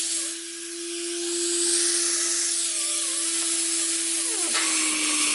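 A vintage Hoover Constellation Model 84 vacuum cleaner motor whines steadily with a constant hum and airy rushing noise, shifting slightly in pitch near the end, with no voices.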